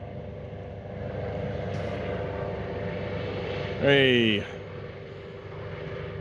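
Helicopter flying over the foreshore on the South Wales coast, a steady distant drone running throughout, with one person shouting briefly partway through.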